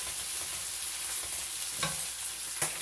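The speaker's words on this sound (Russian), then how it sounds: "Люблю жарить картошку именно когда нарезаю вот такой вот формы ее." Sliced potatoes fry over high heat in a pan, giving a soft, steady sizzle with a few brief stirring scrapes, heard alone and fairly quiet.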